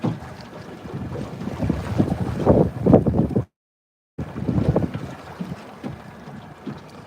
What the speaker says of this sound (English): There's that wind. That wind's meant to pick up.